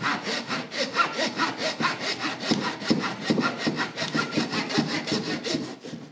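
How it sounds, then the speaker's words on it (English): Rhythmic back-and-forth rasping of a hand saw cutting through bone, steady strokes about three per second, close and loud with no talking. "it's gonna shift from obviously sawing bone, and then it'll sound like flesh"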